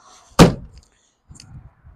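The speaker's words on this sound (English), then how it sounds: "So, shut the door here." A single solid door of a 1967 Chevrolet Camaro with a 454 engine slams shut with a loud thunk, followed by quiet, then faint low rumbling movement.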